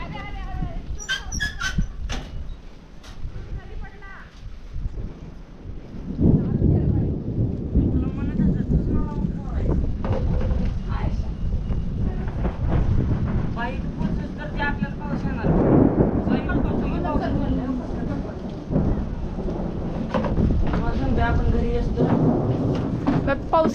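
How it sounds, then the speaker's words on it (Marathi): Heavy rain roars near a house with a mango tree while deep thunder rumbles close by, and voices talk at moments over the storm. "पाऊस एवढा आला की इथं धब धब धब आवाज येतोय"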